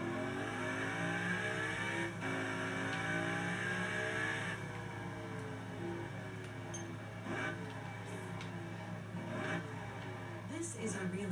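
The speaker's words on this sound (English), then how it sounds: "This is what the car sounds like when the window's up." A steady, muffled engine hum and road rumble fill a car interior with the windows up, with a few faint bumps and a voice briefly audible near the end.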